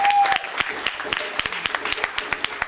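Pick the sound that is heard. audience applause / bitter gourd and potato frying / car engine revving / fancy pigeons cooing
audience applause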